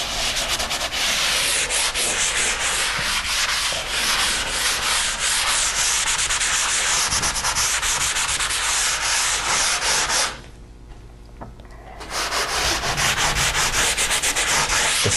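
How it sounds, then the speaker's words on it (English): Hand sanding of dried drywall joint compound on a wall patch: a steady, loud, close scratchy rubbing that runs continuously, with one short pause before the strokes resume. "So at this point, finish sand."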